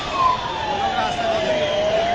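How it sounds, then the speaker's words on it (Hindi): Ambulance siren wails at a youth street protest in Dehradun, Uttarakhand, its falling and rising tone sweeping clearly through the crowd noise at close range, with voices talking over it. "वो देखिए जिस चीज की मैं बात कर रही थी कि एम्बुलेंस, देखिए ये एम्बुलेंस यहाँ पर पहुंची है।"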